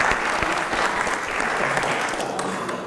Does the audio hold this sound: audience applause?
yes